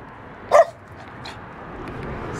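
A dog gives one loud, sharp bark close by, followed by a fainter second bark against quiet outdoor background noise.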